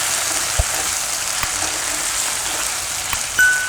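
Potatoes frying in oil, a continuous crackling sizzle with a couple of soft knocks and a brief metallic scrape near the end, alone without talk.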